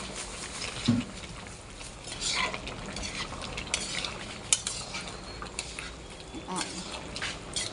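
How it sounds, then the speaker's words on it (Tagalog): Bone-in chicken and pork rib afritada stirred in a pan, a steady scraping and clinking of a spoon against metal over a low simmering sizzle, with occasional louder knocks. "Halo lang po natin"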